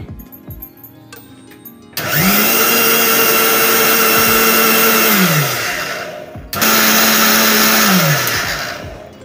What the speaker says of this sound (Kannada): ಇವಾಗ ಇದಕ್ಕೆ ಫಸ್ಟ್ ನೀರು ಹಾಕಿಲ್ಲ, ಹಾಗೆ ಒಂದ್ಸರಿ ರುಬ್ಕೊಳ್ಳೋಣ